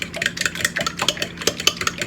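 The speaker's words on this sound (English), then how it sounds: "Whisk again." A whisk beating quiche filling of milk for a bacon onion quiche in a bowl, quick rhythmic taps and swishes repeating several times a second, close and steady.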